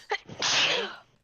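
A single loud sneeze close to the microphone: a quick sharp intake, then a forceful burst that trails off.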